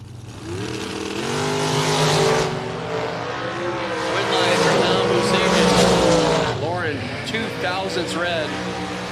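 Watson McDaniel dragster at a drag racing event, a loud sustained engine roar with shifting revving tones and tire squeal, under a continuous announcer's voice.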